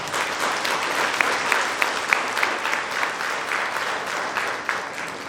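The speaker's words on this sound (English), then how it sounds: "Please give them a round of applause." Graduation ceremony audience applauding steadily for several seconds, a dense, even patter of many hands clapping at moderate distance with no talk over it.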